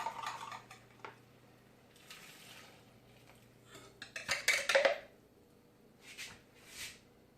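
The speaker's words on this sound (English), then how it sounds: "you just want to whisk as it's getting hot" Creamed corn and milk are whisked in a pot heating on a stovetop, with soft metallic scrapes and clinks in scattered bursts, fairly faint and close, with a low hum beneath.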